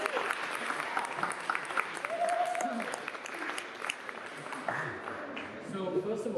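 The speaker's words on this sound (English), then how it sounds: "A round of applause for Stanimir Dimitrov." Audience applause for a poet at a National Gallery Lates poetry event, steady clapping from a crowd filling the room for several seconds, with a brief voice or tone audible partway through.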